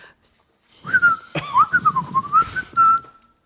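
A person whistles a short, wavering tune of several quick pitch-bending notes close to the microphone, ending on one held note, with faint breathy sounds around it.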